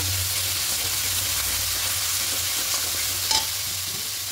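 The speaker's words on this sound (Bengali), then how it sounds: "এবার টক দইটা দিয়ে খুব ভালো করে মিশিয়ে নেব।" Sour yogurt is stirred into dry fried spice masala in a pan, giving a steady close sizzle with soft stirring scrapes and a brief clink near the end, with no talk.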